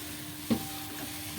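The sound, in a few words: vegetables frying in oil with spices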